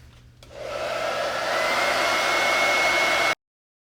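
Handheld dryer blowing to dry chalk paste on a silkscreen transfer, switching on with a rising whoosh and running as a steady close airy roar for about three seconds before cutting off abruptly.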